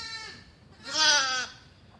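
Lambs in a farm shed give two bleats nearby, a shorter faint one followed by a louder, longer wavering cry, with quiet pauses around them.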